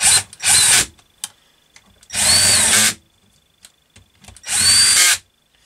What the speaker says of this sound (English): I tend to use just electric screwdriver on a low setting.